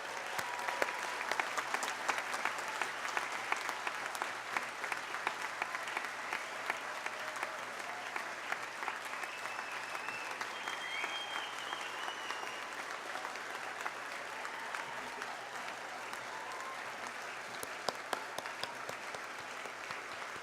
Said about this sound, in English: Please join me with a warm round of applause for these graduates.